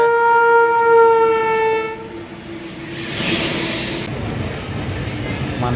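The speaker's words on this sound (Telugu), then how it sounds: "ఈ ట్రైన్ దీని మీద నుంచి వెళ్తేప్పుడు" A train rumbles past on the track near a temple in Rayagada, opening with a long loud horn blast that fades into steady wheel and carriage noise, with a hissing swell as the cars roll by close at hand.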